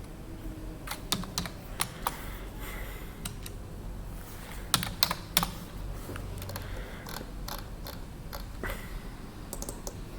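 Close-up typing of a password on a computer keyboard, an irregular run of quick, crisp key clicks with a few short pauses over a faint background hiss and no talking.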